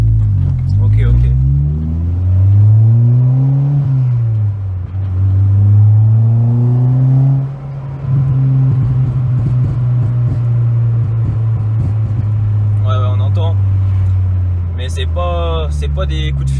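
A Peugeot 206 RC revving and settling back while a steady low exhaust drone runs throughout, with soft pops on deceleration set up to be gentle on the engine. People talk over it.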